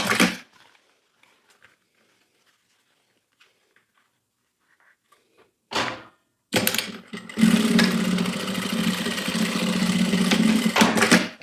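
A sewing machine topstitches fabric for a slipper holder, a brief burst near six seconds and then a steady, loud motor hum from about seven seconds to the end, after near silence.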